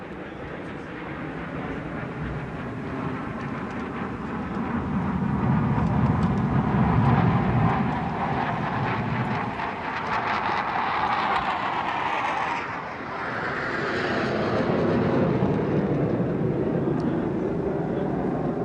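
Fighter jets in aerobatic manoeuvres at a naval air show over Visakhapatnam, a sustained roaring engine rumble that swells and shifts as the aircraft pass, with an announcer talking over it.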